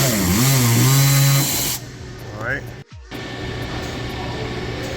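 A power tool drives out T15 screws on a 2013-2016 Chevy Malibu during AC condenser work, whirring loudly with pitch sweeps before stopping, followed by a brief short burst and quieter shop background.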